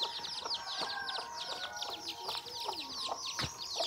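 Chickens cluck in a village yard during a festival, a busy run of short repeated calls from several birds close by, with some brief sharper squawks.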